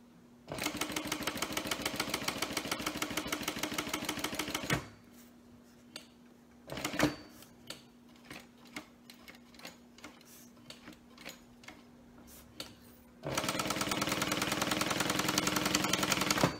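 A sewing machine stitches in two long, fast mechanical bursts at the start and end, with a stretch of slower, uneven single stitches between, over a faint steady hum.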